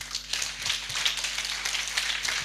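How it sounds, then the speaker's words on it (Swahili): A church congregation clapping during a night service, soft irregular handclaps spread across the room with a steady electrical hum underneath, fairly faint and sustained. "Simpigie Yesu makofi basi."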